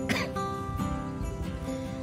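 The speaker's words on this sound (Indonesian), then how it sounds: "aduh agak batuk pula saya ya" Two short coughs, about a second apart, sound near the microphone over a quiet room while someone kneads wool roll bread dough in a home kitchen.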